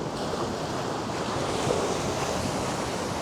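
Ocean waves wash steadily at the shore at Knob Hill, a constant broadband roar mixed with wind buffeting the microphone, no voices present.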